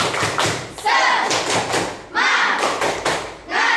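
Schoolchildren in an Indonesian classroom doing a rhythmic spirit clap together, loud close-up bursts of group clapping and thumping in a patterned beat with chanted voices over it.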